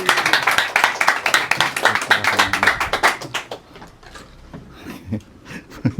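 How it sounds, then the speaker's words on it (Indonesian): Audience at a Jakarta stand-up comedy show applauding a comedian's entrance: dense clapping for about four seconds, then fading to scattered claps with a few murmured voices. "Beri tepuk tangan yang meriah untuk Rahmat Ababil."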